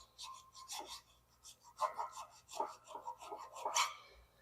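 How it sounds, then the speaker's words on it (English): A metal file held on edge runs a few rasping passes into the corner of a CNC mill Y-axis rail, producing quiet, close, scratchy strokes, about five in a row, with no voices. "I'm just going to set the file on edge, and I'm going to just go ahead and just run a few passes to just get rid of any gunk in that corner."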